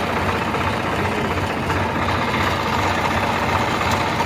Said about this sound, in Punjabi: ਮੋਟਰ ਚਾਲੂ ਕਰਕੇ ਵੇਖੀ